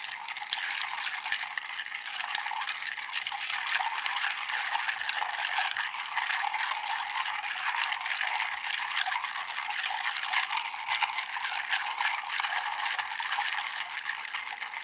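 A bar spoon churns ice in a mixing glass of Russell's Reserve 10 Year bourbon cocktail, producing a dense, unbroken clinking rattle held close and even in volume for the whole stretch, no speech.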